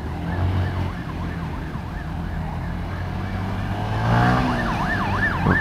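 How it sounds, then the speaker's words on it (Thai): An ambulance siren wails on a city street, warbling up and down steadily over a rumbling engine and traffic noise, growing louder toward the end. "ไม่ต้องสงสัยครับรถหวอเลยทุกวันนะครับเส้นนะครับ"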